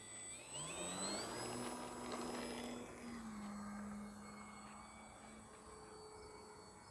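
A HobbyZone Carbon Cub S 2 RC airplane, 1.3 m wingspan, flies past with a whining electric motor that rises in pitch, passes fairly close, then fades into a steady, quieter hum.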